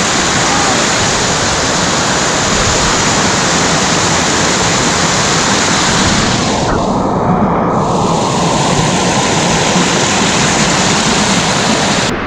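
A loud, steady roar of rushing water from the Dhangar Waterfall near Badlapur, heard from above the falls, continuous and close, with no voices.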